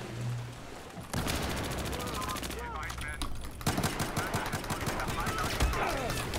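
Rapid sustained automatic gunfire from a competitive video game match on Guilin Peaks, a long unbroken burst emptying a full magazine, loud and close, with a faint voice in the background.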